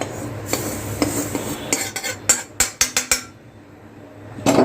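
Roasted semolina (rava) for prasad sheera is scooped from the pan into another dish with a metal spoon, producing a series of close scraping clinks and taps of utensil against vessel, sharper knocks clustered toward the middle and end.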